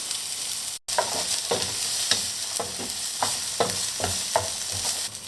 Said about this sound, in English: we put a bit of olive oil in a pan, and now we add the onion.